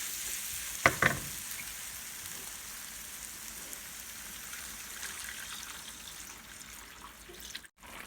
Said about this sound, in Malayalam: ഇനി ഇതിലേക്ക് ഒഴിച്ച് ഒന്ന് തിളപ്പിച്ചെടുക്കുക